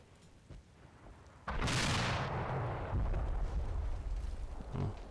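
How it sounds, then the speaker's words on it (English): A loud artillery shell explodes in Combat Mission: Battle for Normandy, a sudden broad boom that rolls on as a sustained rumbling roar for several seconds, with no talking. "Ooh, another loud explosion."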